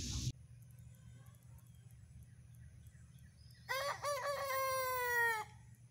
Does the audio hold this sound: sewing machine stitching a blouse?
no